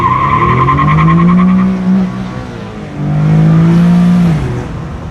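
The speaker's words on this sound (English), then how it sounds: "let's try wide open throttle." An Infiniti G37 sedan launching at wide open throttle: a loud, close engine roar climbing in pitch with tires squealing, a brief dip at a gear change, then a second rising pull.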